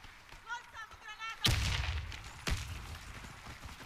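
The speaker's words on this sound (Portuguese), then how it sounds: "Já veio uma granada aqui" Grenade explosions in the shooter game Warface: two sharp, booming blasts about a second apart, each followed by a rumbling tail. A voice talks faintly just before the first blast.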